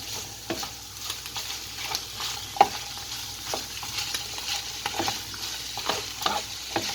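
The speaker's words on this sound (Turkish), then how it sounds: "En son olarak bir su bardağı haşlanmış nohutumuzu ekliyoruz. Tekrar karıştırıyoruz." Boiled chickpeas are stirred into a cooked stuffing mix for Hatay-style şıhıl mahşi stuffed zucchini. A spoon scrapes and clicks against the pan at a steady pace over a soft, continuous sizzle, with no talk.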